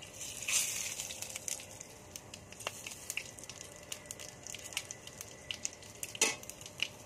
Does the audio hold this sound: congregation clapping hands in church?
no